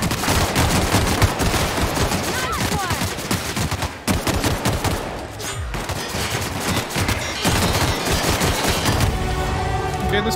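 Pistol fire in The Outer Worlds rings out as a loud, dense volley of close shots, pausing briefly a couple of times before the rapid firing resumes.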